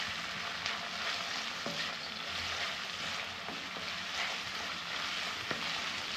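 Onions frying in oil for biryani beresta hiss in a steady loud sizzle, with occasional soft scrapes of stirring and no talk.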